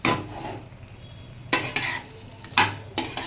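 Chicken and softened vegetables being stirred in a pan, with several distinct metallic scrapes and clanks of a spoon against the pan over a faint sizzle; no speech.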